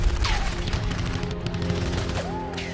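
Gunfire sound effects in a dramatized account of an Indian Army battle at Tololing against Pakistani troops, dense bursts and crashes with whooshing swoops layered over a rumbling dramatic score.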